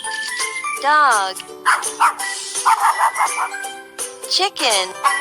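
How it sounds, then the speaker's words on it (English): A cartoonish dog yips and barks a few times over a bright, tinkling jingle melody in a children's farm animal puzzle game. "Dog."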